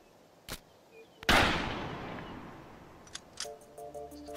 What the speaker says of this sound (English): Photographing a high-speed rifle bullet reveals two different shockwaves.